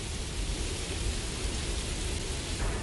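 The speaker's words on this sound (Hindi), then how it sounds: "बारिश तो बहुत बढ़ गई है।" Heavy rain pours down in a thick, constant roar of broadband noise, loud and unbroken throughout.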